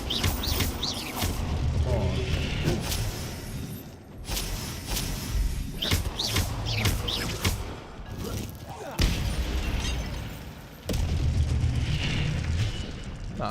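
Incendio fire spells in Hogwarts Legacy go off repeatedly in a magic battle, heavy whooshing bursts and thuds mixed with dense combat noise and some talking.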